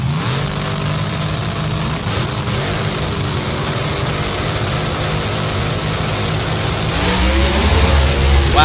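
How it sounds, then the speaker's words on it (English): Top alcohol dragsters launching in a first-round elimination, one car spinning its tires and another running with a dead cylinder; a loud, steady engine roar that swells near the end, with no talk. "Wow, Dan Dietrich immediately blew the tires off, and Brandon Greco's got a cylinder out."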